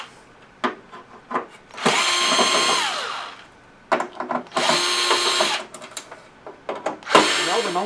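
Case screws being removed from a Nakamichi 700ZXE cassette deck with a power driver: three long whirring bursts with short clicks and handling noises in between, close and fairly loud.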